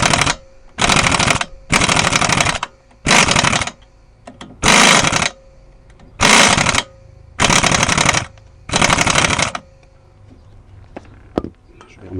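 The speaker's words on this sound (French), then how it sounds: "j'espère pouvoir l'avoir avec ma clé à choc" Impact wrench hammering at a rounded lug nut on a VW Touran brake job, in seven loud rattling bursts of one to two seconds each, separated by short pauses, with faint clinks and handling noise near the end.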